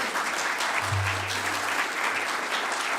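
Steady applause from an audience at an academic honor society induction ceremony, a dense continuous wash of clapping throughout with a faint low hum underneath.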